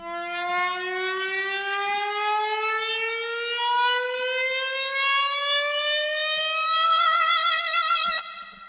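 A synth tone with heavy phasing sweeps steadily upward in a long wah-like build-up, loud and continuous for about eight seconds before it cuts off abruptly.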